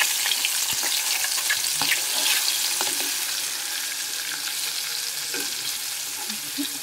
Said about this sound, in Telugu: వేసుకొని లో ఫ్లేమ్ పెట్టుకొని బాగా ఫ్రై చేయాలి.